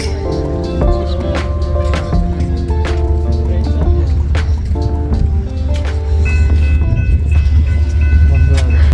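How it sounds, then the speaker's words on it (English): A train rumbles past near the White Rock pier in British Columbia, Canada, with a loud low continuous roll, clanking wheel hits and high squealing tones layered over it, and faint voices mixed in. "We were actually waiting to see this train because this train goes from Canada to US."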